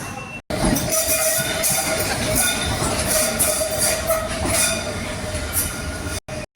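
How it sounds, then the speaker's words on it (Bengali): Loud, steady rumble of a London train running on rails near Farringdon, with a thin metallic whine and rhythmic wheel clatter; close, continuous, brief cutouts. "ইলফোর্টের জন্য আমরা ট্রেনটা ধরবো"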